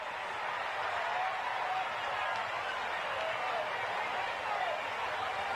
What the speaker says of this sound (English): We can hear that homecoming crowd now.